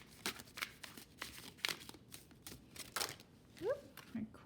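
Tarot cards being shuffled by hand, a quick series of soft riffling slaps and flutters, close and fairly quiet, with someone speaking briefly in between.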